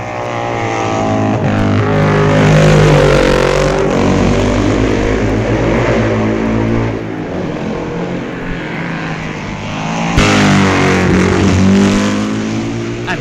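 Matchless racing motorcycle at the 1965 Isle of Man TT, its engine loud and close with rising and falling harmonic revs as it passes, dipping midway then surging again near the end.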